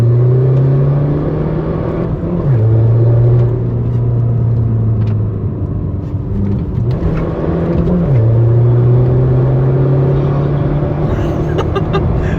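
Volkswagen Golf 7 GTD with a stage 2 tune revving its diesel engine, several rises and falls in pitch over a deep rumbling idle, loud and close.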